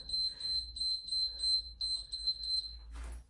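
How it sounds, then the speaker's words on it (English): A workout timer beeper sounds during a bedtime yoga session, a string of rapid, high, piercing beeps in quick bursts separated by brief pauses, loud and close, with a low rumble underneath. "Let's start the beeper."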